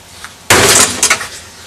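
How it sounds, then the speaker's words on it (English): A refrigerator door being forced off its hinges, one sudden loud crack and bang with a short rattling clatter after it, close up. "Trying to get the doors off."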